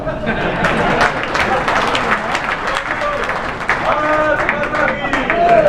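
An audience at a Hindi poetry gathering (kavi sammelan) in Delhi breaks into sustained applause: dense, loud rattling claps that continue steadily for several seconds with voices mixed in.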